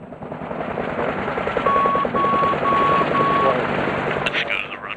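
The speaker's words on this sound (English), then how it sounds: "Watch the truck coming in." A truck's backup beeper sounds four evenly spaced beeps over a loud engine and two-bladed helicopter rotor rumble at an airfield, with brief talk near the end.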